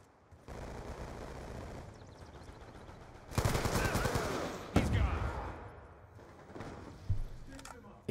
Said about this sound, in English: That's a shotgun I heard.